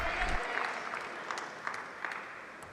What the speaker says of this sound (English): This crowd does feel like it's giving the paddlers a legitimate boost of adrenaline here tonight.